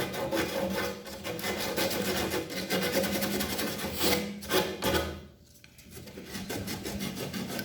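Continuous rhythmic rasping of sandpaper rubbing against a refrigerator system pipe before cutting, close by, briefly easing off near the end before resuming.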